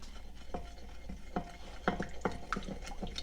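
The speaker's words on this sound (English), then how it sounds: "Stir that all up real good" Hot sauce is stirred into smoked chicken wings, a soft, wet, sticky mixing with irregular light taps and squelches repeating quickly at close range, quiet overall, with no talking.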